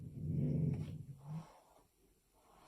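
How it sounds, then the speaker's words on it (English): A sleeping puppy lets out a low, rumbling growl followed by a softer whimpering grumble, close and fairly quiet in an otherwise still room. "I heard her growl and like make that noise"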